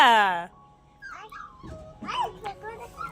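A puppy that has wandered into a house gives a short, high, quavering whimper right at the start, followed by people talking nearby.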